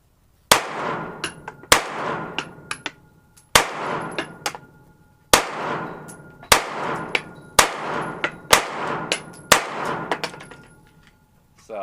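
Shots from a Smith & Wesson M&P Shield 9mm pistol strike a steel gong target: sharp cracks, each followed by a ringing metallic clang, repeated about a dozen times in pairs and rough groups over steady outdoor quiet.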